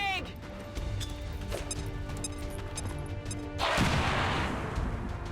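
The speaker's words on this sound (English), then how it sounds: "Throwing grenade." A grenade bursts in XCOM 2 (Long War 2 mod), a sudden loud crash-and-roar of explosion rising out of steady game ambience late in the moment, with someone talking over the play.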